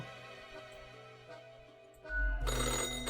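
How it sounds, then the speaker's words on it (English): An old-fashioned telephone rings with a faint bell tone, then a loud, bright ringing burst at the end, with no one talking. "The old-fashioned phone rings again, right as you settle in"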